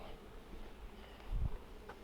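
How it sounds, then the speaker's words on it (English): A faint, steady buzz of many honeybees at an open hive during an inspection hums in the background, with a brief low thump partway through. "They're bees. They like to do what they do."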